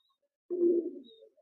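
A single soft, low pigeon coo from a broad-tailed breeding pigeon of an imported Dabwily bloodline, lasting under a second, close and quiet with no talk.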